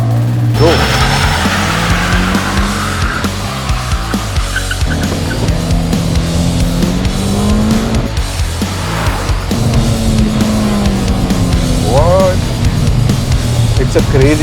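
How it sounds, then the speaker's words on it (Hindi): A 1.8-litre manual D-segment sedan launches hard from 0 to 60, its engine roaring and climbing through the gears in loud rising sweeps, with brief tyre squeal and someone talking excitedly over it. "तो ये भारी सी बड़ी सी डी सेगमेंट सेडान को लॉन्च करके देख लेते हैं और देखते हैं 0 to 60 कितनी आती है।"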